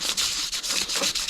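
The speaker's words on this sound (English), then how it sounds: "So I am using a very used piece of sandpaper, purely because I'm not worried about it looking wildly immaculate." Worn sandpaper rubbed back and forth across a titanium Kizer Ti'an knife pocket clip, a loud, close, rhythmic scratchy hiss in short repeated strokes.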